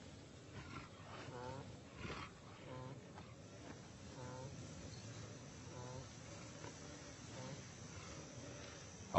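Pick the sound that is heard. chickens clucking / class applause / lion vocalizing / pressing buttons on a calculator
lion vocalizing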